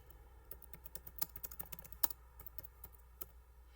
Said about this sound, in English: My hands are cold, so I'm typing a little bit messed up.